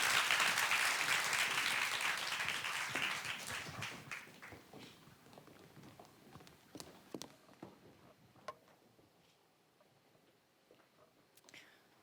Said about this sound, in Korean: 오늘 함께해 주신 정세랑 작가님께 여러분 다시 한번 큰 박수 부탁드립니다